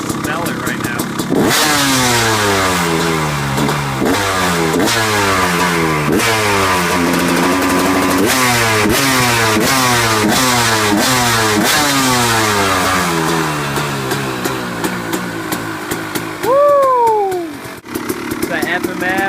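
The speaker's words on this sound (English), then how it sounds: "so I should be able to rev it pretty good now" A 2013 KTM 250 SX two-stroke dirt bike with an FMF exhaust revs hard and repeatedly, loud and close, with rising and falling engine pitch sweeps settling briefly near the end.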